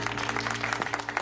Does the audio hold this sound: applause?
yes